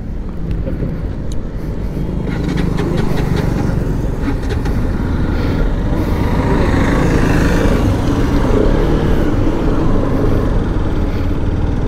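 A Bajaj RS200, a 200cc motorcycle, running close and loud, with its engine and road noise holding a continuous, even roar throughout.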